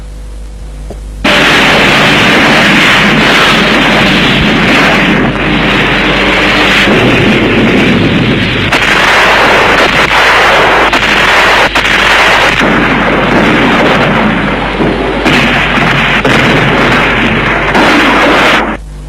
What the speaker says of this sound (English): supported by heavy area bombardment